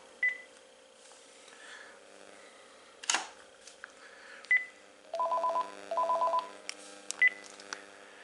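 A Panasonic KX-TG5243 cordless phone handset sounds two short bursts of dialing tones in quick succession, clear and close, after a few scattered clicks and a sharp knock in an otherwise quiet room.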